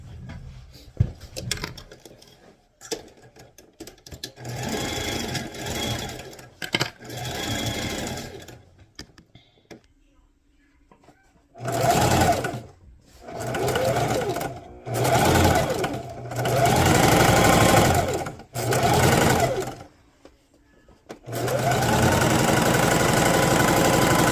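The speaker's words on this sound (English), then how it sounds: "And then I'm going to follow up with my sewing machine." A sewing machine runs in repeated bursts of rapid mechanical stitching, stopping and starting several times, close and fairly loud.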